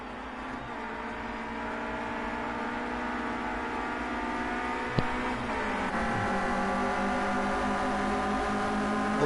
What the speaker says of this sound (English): It is a very, very long train of Clio Cup cars.